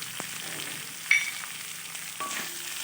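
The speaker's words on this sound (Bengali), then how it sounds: "দিয়ে আবারও ভালোভাবে নেড়ে চেড়ে একটু কষিয়ে নেব।" Boiled mung dal with carrot and spices sizzles as it is stirred in a pan, with a constant soft hiss and a couple of light scraping clicks and no voices.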